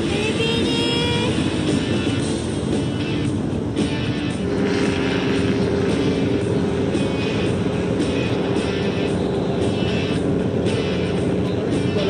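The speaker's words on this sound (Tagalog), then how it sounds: "Si Nico, solo flight muna sa ultralight plane ride" An ultralight plane's engine drones loudly and steadily throughout a solo flight, a continuous buzzing roar with no pauses and no voices.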